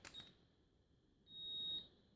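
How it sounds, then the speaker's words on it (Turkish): A non-contact infrared thermometer gives a single clear electronic beep as it starts a measurement, first a short chirp and then a longer steady tone, both quiet and close in a silent room. "İlk seferde bir bip sesi geliyor. Bu ölçmeye başladım anlamına geliyor."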